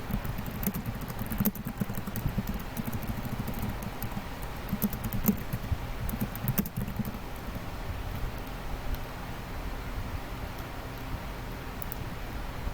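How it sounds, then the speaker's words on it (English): Soft clicking of computer keyboard typing runs in irregular bursts throughout, fairly faint and close, with light background hiss and no speech. "Sorry for if you guys hear the typing in the background, that's just me typing."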